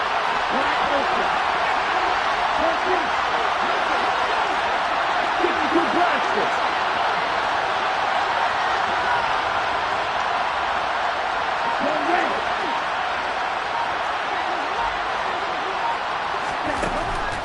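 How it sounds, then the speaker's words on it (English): A football stadium crowd roars steadily ahead of a big third down in an NFL game, a dense, loud wall of cheering throughout with commentary talk layered over it. "the crowd getting into it as we come up on a big 3rd down"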